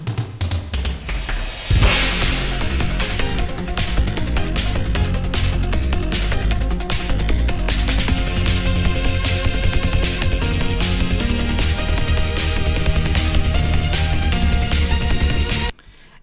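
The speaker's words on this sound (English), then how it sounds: "instead I added these toms like this. Because I wanted the 80s thing going on." An 80s-style programmed drum beat built from toms, a reverse cymbal and a triplet kick, starting after a short swell of under two seconds, then running loud and steady with dense rhythmic hits until stopping abruptly near the end.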